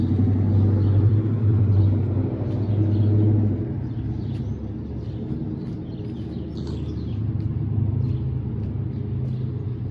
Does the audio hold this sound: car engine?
yes